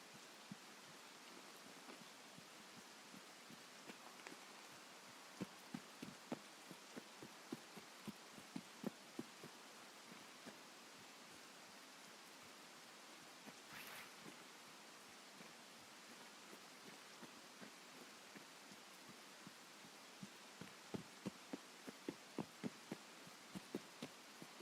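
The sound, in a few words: rain in a video game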